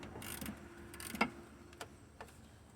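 Ratchet wrench working loose the mounting bolts of a truck alternator, a few short metallic clicks and ticks at close range, sparse and quiet against a low hum.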